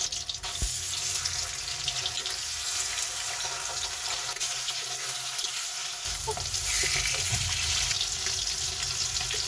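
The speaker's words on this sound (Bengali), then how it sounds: "তারপর তেল গরম করে মাছগুলোকে একে একে আমি ভেজে নিচ্ছি।" Pieces of katla fish, coated in spice and a little mustard oil, fry in hot oil, giving a steady, fairly loud sizzle that runs the whole time with brief clinks and small shifts, and no one speaks.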